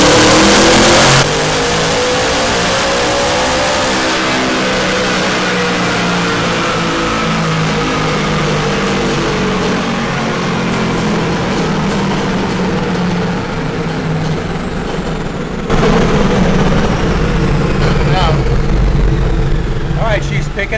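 A Whipple-supercharged 2019 Ford Mustang 5.0 revs hard on a dyno, its engine note climbing steadily through a long loud pull with supercharger whine, then surging louder near the end.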